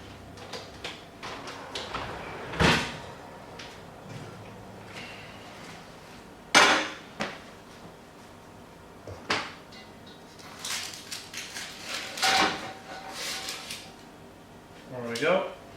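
An oven door opens with a sharp clunk as a sourdough loaf is taken out, followed by several clanks of a tray and pans in a kitchen, scattered and fairly close.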